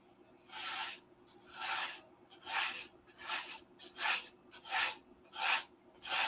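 Rhythmic rasping strokes of an 80-grit sanding stick on wood, about eight even back-and-forth passes, close up with quiet gaps between each stroke.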